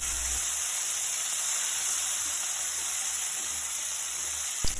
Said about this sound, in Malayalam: മീഡിയം സൈസ് തക്കാളി അരിഞ്ഞത് കൂടി ചേർത്ത് ഒന്ന് വഴറ്റിയെടുക്കാം.